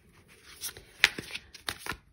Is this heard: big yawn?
no